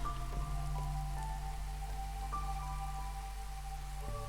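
Drizzling rain in the video game Against the Storm, a steady soft patter of light rain heard alone throughout, with faint steady tones from the game's ambience underneath.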